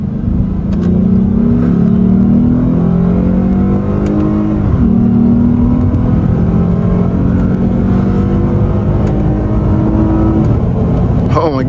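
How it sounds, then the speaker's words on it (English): A 2015 Lexus GS350 F-Sport with a 306-horsepower engine accelerates hard in Sport Plus mode under paddle-shifted gears, its loud engine note rising steadily and dropping at each upshift, heard from inside the car. "now we're gonna be in Sport Plus, and I'm gonna use the paddle shifters here myself"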